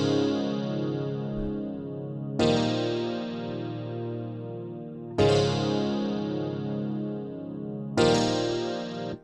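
Sustained piano chords follow a gospel chord pattern, with four full chords struck roughly every two and a half seconds, each ringing out and decaying before the next.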